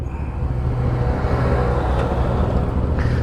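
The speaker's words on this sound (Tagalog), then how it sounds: "Traffic." Road traffic makes a steady, loud rumble of passing vehicles close by, with a few faint higher-pitched accents and no voices.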